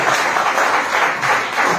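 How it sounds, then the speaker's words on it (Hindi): Brief burst of audience clapping, dense and continuous, with no voices over it. "ताली बजा के"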